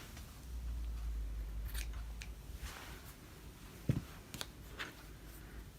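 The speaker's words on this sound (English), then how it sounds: "you could also do this and just cut it with your scissors" Scissors snip through scraps of quilt batting in a few soft, close cuts, with muffled rustling of the fabric and a sharper snip near the middle.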